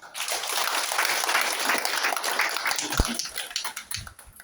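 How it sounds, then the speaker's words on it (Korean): Audience applause at a business talk or seminar, a steady wash of clapping that fills the room and tapers off toward the end. "박수 한번 주세요."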